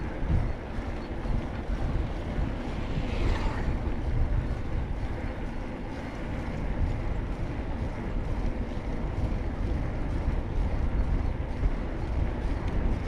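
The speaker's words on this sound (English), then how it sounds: "Slightly windy, you can feel it." Steady wind gusts across open Vietnamese countryside near a river, a constant low rushing roar buffeting the microphone throughout, with no voices.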